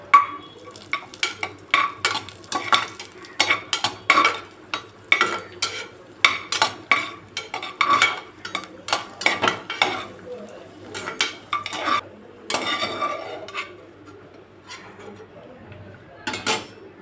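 A spoon stirs cashews and raisins frying in a pan for poha milk kheer, making repeated close metallic scrapes and clinks against a faint sizzle, then slowing near the end.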